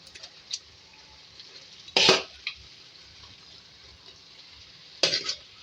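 Potatoes and red amaranth greens are stirred in a pan, with two bursts of scraping and rustling over a faint quiet background, the first louder and longer.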